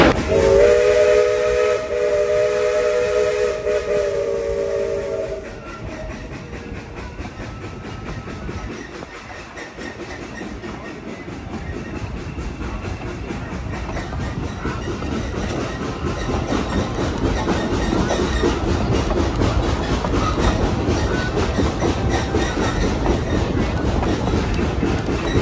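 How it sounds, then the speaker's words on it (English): A Tweetsie steam train rolls steadily along dual gauge rails with a rhythmic clickety-clack and a rumbling engine working hard upgrade, and a whistle sounds early on before the running noise builds. "Ride the rear platform of the caboose as the train travels the dual gauge iron"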